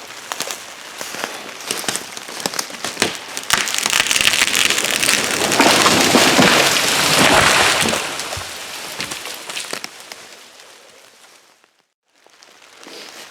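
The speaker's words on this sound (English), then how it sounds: "A little bit of rain coming now." Rain patters in the woods, a dense crackling hiss that swells to a steady downpour, then fades and breaks off briefly before resuming more lightly.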